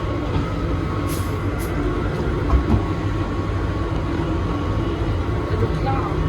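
A train rumbles and rattles steadily through Humlebæk station, a loud continuous rolling clatter with a few brief high squeals.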